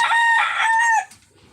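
A rooster crows once, loud and close, a single drawn-out call that cuts off abruptly.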